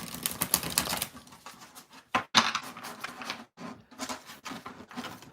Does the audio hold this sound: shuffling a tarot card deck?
yes